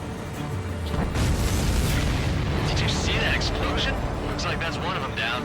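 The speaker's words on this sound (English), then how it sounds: "Did you see that explosion?" A loud, sustained explosion rumble in the Ace Combat 7 flight combat video game, a broad roaring blast with crackling bursts over several seconds, with no speech.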